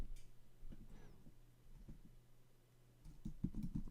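Keystrokes on a computer keyboard as a folder name is typed, a quiet irregular patter of clicks in the first half, pausing, then a brief louder burst near the end.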